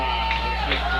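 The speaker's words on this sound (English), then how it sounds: "Crowd getting into it, love to hear that." Crowd at a high school football game for the Big Rapids Cardinals in an opening-week matchup, with a steady roar of cheering and a few shouts swelling over a low rumble.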